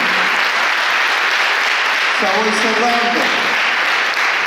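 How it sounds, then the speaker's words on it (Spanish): A church congregation claps in a dense, continuous burst of applause for several seconds, with a brief voice or musical tones briefly rising over the crowd noise. "denle un fuerte aplauso al Señor"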